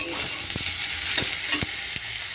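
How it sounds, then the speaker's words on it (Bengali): Eggplant fries in a pan, a constant loud sizzle broken by a few sharp scraping knocks as it is stirred, with no talking. "বেগুনটা নাড়াচাড়া করে তারপর আমি দিয়ে দেবো শাকটা"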